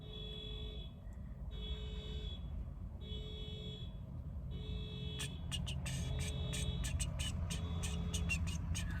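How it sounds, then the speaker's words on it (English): A car alarm sounds from a distance, repeating a steady tonal pattern of pulses and then switching to rapid chirping bursts, with low traffic rumble throughout. "I don't know if you can hear that car alarm."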